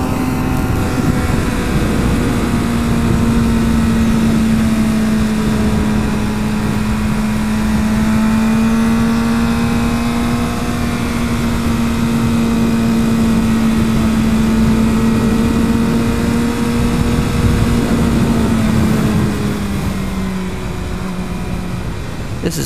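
A 250cc motorcycle ridden at a steady pace on a road, its engine holding a constant mid-pitched drone with slight shifts in pitch, loud and close, with wind noise throughout.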